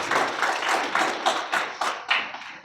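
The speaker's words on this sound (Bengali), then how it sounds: "আমরা মাহমুদুর রহমান মান্না ভাইয়ের জন্য আবারও একটু জোরে করতালি চাচ্ছি আপনাদের থেকে" Audience applause in tribute to Mahmudur Rahman Manna at a student political gathering: a steady run of rhythmic hand claps, fairly close and moderately loud, thinning into a few sharper separate claps toward the end, with no talk over it.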